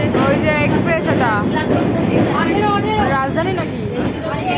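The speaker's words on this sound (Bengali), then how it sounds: "এই যে ট্রেন ঢুকছে, ওই তো কোনো ট্রেন বেরিয়ে যাচ্ছে।" A train pulls into Sealdah station in Kolkata, a steady rumble and rolling clatter heard from the platform. Station crowd babble and nearby voices run over it the whole time.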